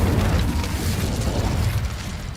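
Incendio fire spell cast in Hogwarts Legacy, a dense, roaring burst of flame with heavy low rumble sustained steadily throughout, loud and close with no talking.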